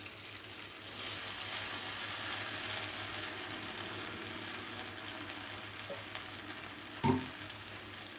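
Cashews and poppy seeds fry in a kadai over a low-to-medium gas flame, giving a steady soft sizzle and hiss up close, with a single sharp clank of the spoon near the end.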